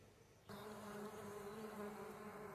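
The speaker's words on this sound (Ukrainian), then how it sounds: "Знаходиться колонія наших осмій, які проводять запилення." Mason bees (Osmia) buzz in flight around their colony near blossoming plum and cherry trees, a soft continuous droning hum that starts abruptly after a brief quiet moment and stays faint and steady.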